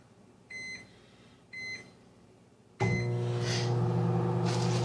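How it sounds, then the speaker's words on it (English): A microwave oven heating sardines gives two short beeps as buttons are pressed, then starts up with a loud, steady hum and whir that continues to the end. "In the meantime, I'm going to microwave this fish"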